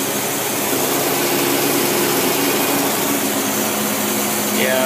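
A Cadillac engine fitted with a Rochester carburetor runs at a steady, close, unbroken drone with no change in pitch.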